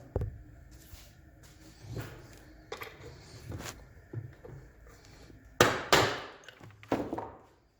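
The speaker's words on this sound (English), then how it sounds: "let me get a little hammer" Irregular knocks and taps on wood from a small hammer fitting the handle of a Johnson Evinrude outboard controller, a few sharper louder strikes near the end, with quiet rustling between.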